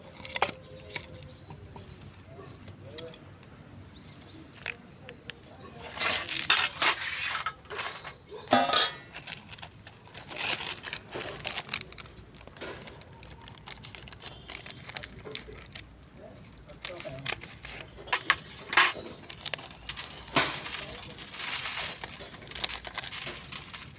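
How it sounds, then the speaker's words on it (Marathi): Black pepper, cloves and nagkesar roasting in a little oil for kala masala, with stirring scrapes, rattles and light crackle coming in bursts against a quiet kitchen. "थोडं थोडं तेल टाकून भाजायचं."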